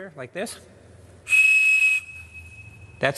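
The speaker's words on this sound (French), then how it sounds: "Quand on siffle dedans au téléphone, ce son indique à l'autre côté que la ligne est libre" A Captain Crunch cereal-box toy whistle sounds one steady, piercing 2600 Hz tone for under a second, held alone between short bursts of speech.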